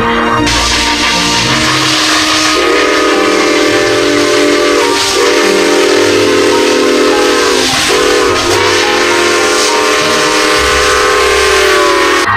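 A loud, sustained steam train whistle blows in several long blasts with brief breaks, over a constant hissing rush of steam.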